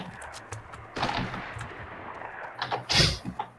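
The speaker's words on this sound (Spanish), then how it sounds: "Yo escucho los disparos." Gunshots in a video game ring out as scattered sharp bangs, a cluster near the middle and a loud, close blast near the end, over faint background game noise.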